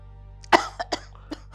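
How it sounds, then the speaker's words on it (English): A man coughs sharply once, then gives two smaller coughs and a faint final one, close up indoors in a quiet home. "This one you're coughing."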